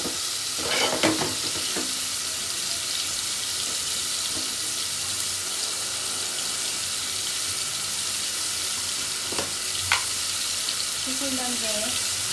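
Onions frying in a pan during home evening cooking give a steady, close sizzle throughout, with a few clinks of stirring near the start and again around ten seconds.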